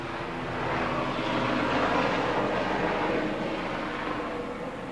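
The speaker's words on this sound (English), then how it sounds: "That was a loud helicopter." A loud helicopter passing overhead outdoors during car detailing work, a steady broad rumbling roar that swells to a peak around the middle and stays strong to the end, with no talking.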